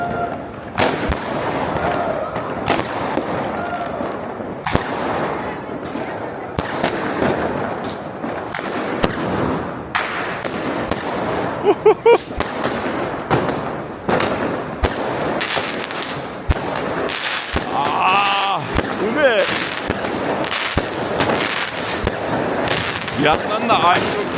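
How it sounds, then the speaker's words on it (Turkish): Fireworks and firecrackers go off in a German street on New Year's Eve: a dense, continuous run of sharp bangs and crackles, some very close and loud, others farther off, with people talking throughout. "havai fişek fırlatıyor"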